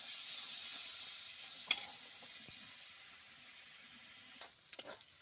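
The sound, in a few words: chicken skin frying until crisp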